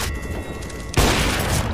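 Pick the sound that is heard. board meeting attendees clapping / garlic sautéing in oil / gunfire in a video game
gunfire in a video game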